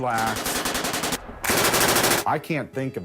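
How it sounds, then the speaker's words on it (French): Guns fire at a shooting range in rapid, loud, sharp bursts, close up, with brief pauses between volleys and a moment of near silence in the middle. "les coups de feu font beaucoup de bruit"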